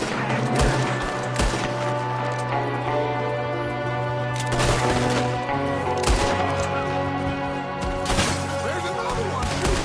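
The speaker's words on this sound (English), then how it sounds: "There's another one shooting from the window." Video game gunfire from a shooter in a window pops in repeated sharp bursts over a continuous droning background tone, with heavy impacts spaced irregularly throughout.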